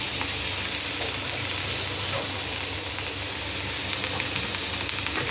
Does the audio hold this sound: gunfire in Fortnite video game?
no